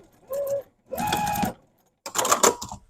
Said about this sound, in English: Just trying to stitch right on top of that or just to away from the edge so that you're gonna get a nice finished looking seam.